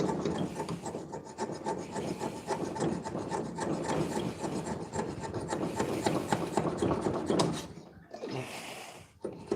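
Steady rasping of a metal file and scraper worked along a hand-made dagger blade, close and continuous in short repeated strokes, pausing briefly near the end before one last scrape.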